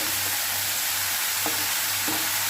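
Ridge gourd and eggplant cook on low heat in a pan for a mourala fish and stalk chorchori, a constant sizzle with occasional sharp scrapes from stirring. No voices are heard.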